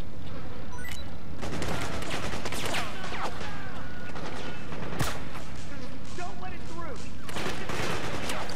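Dense gunfire and bursts of automatic fire from the video game Metal Gear Solid 4 crackle loudly and continuously, with sharp louder shots standing out and voices heard amid the shooting.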